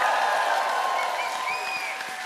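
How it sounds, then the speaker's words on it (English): An audience at an MCM convention Q and A panel applauds and cheers together, a dense sustained wash of clapping that fades slightly toward the end, with no speech over it. "That's a big cheer."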